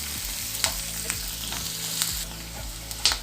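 Onions sauté in a pan for green masala chicken fry, a close, steady sizzle with occasional scraping stirs and small sharp ticks of a spoon against the pan, no voices.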